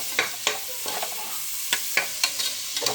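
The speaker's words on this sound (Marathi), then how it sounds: "कांदा टॅमॅटो असं लाल होईपर्यंत छान भरपूर फ्राय होईपर्यंत असं छान फ्राय करायचं" Onion and tomato fry in a pan under a steady, close sizzle. Regular scraping strokes from stirring repeat roughly every half second.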